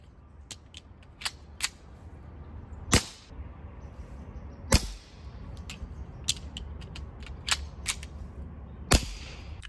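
A Walther P22 pistol fires .22 rounds, heard as a string of sharp, cracking shots at irregular intervals, some loud and close, others lighter, over a low background hum.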